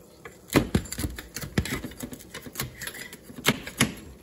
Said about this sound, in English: place the spatula between the tray and the pie. Scrape that delicious caramelized cheese